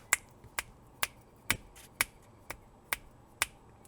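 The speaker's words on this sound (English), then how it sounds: "I'm just snapping right in front of it" Eight crisp finger snaps come close up in front of a sound-activated LED light, evenly spaced about half a second apart with nothing else in the room.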